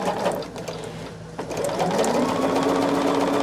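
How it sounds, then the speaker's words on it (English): A sewing machine stitching fabric strips at a 5/8 inch seam runs close and steady, its rapid mechanical needle chatter humming continuously with a brief slowdown before resuming at full speed. "I'm going to sew these straight across at that 5/8 inch"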